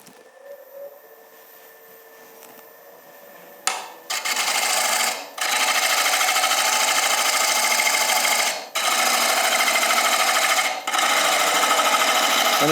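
A wood lathe spins a bowl held in jaws, first a quiet lead-in, then a loud, steady rasping whir of turning that drops out briefly a few times before resuming.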